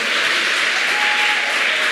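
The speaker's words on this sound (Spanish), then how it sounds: "Dale un aplauso al Señor." Church congregation applauding during a Spanish-language sermon, a steady dense wash of clapping that holds at an even, fairly loud level from start to finish with no voices.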